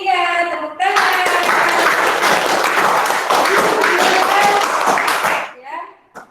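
Students in a classroom clap their hands together in a burst of dense applause that lasts about five seconds, stops suddenly and fades out, with a little chatter audible before it begins.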